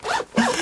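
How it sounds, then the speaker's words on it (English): A zipper on an ultralight camping backpack is pulled in two quick close strokes, a brief rasping zip followed by a second, slightly longer one. "Dan loves this zipper"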